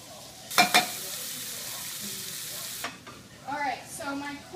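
Corn cooking in a pan with red onions, stirred: a close continuous sizzle opened by a couple of sharp utensil clatters, with a voice speaking briefly near the end.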